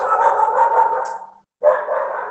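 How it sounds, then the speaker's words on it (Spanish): A neighbor's dog barks in a steady run of close, loud barks, pausing briefly before barking again. "El perro del vecino."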